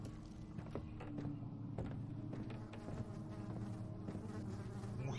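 Flies buzz faintly and steadily in Amnesia: The Dark Descent, a droning insect hum over a quiet, low ambient background, with a few soft thuds.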